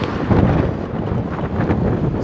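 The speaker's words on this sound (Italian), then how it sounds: "Cominciamo subito con un bel vento." Loud wind buffeting a microphone while cycling on Lanzarote, a rough, gusty roar that rumbles unevenly throughout.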